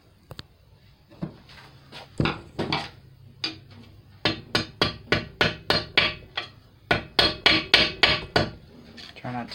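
A hammer strikes a 7/16 socket to punch holes in a custom gasket for a Ford 300 inline six, a few scattered taps building into a rapid series of sharp, close metallic blows.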